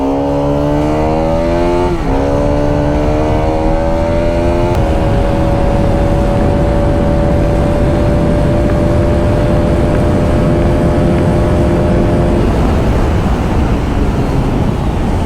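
A Bajaj Pulsar RS200 motorcycle, six years and 40,000 km old, revs hard through its gears as it accelerates, with a rising engine note that dips at each shift and then settles into a steady high-speed drone under constant wind rush.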